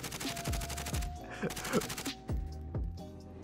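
Rapid gunfire bursts from the Warzone video game, several sharp shots in quick succession with voices talking over the action.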